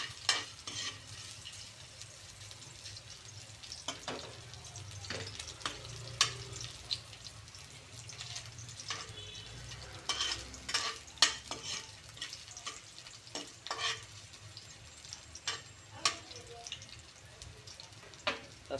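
Ginger sizzling and frying in hot oil in a home kitchen, with a steady crackle and repeated stirring and scraping sounds close by, no voices.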